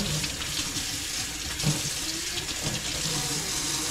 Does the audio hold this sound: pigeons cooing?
no